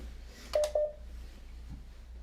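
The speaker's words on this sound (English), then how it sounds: "One moment while I unmute the conference call." Telephone keypad tones during the unmuting of a conference call: two short electronic beeps in quick succession, clear and moderately loud over a low steady room hum, followed by quiet.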